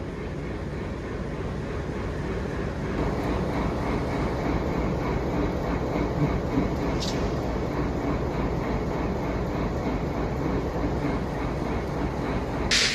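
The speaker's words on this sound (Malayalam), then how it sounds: "ഇത് നമ്മളെ നേരത്തെ കണ്ട WDG3." A long-distance express train hauled by a WDG3 diesel locomotive passes at night, giving a steady, broad rumble and rolling noise throughout, heard from nearby without talk.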